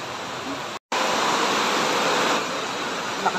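Heavy rain pours down at a market in Batasan Hills, Quezon City, a loud, steady broadband hiss with a brief dropout near the start and no clear talk.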